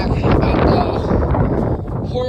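Strong, cold wind blows across outdoor pickleball and tennis courts in Okoboji, buffeting the microphone in a loud, gusty rumble with brief dips.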